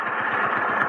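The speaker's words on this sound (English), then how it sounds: "We'll keep the motor idling." A boat motor idling steadily, a continuous mid-pitched rumbling drone, loud and close with no voices over it.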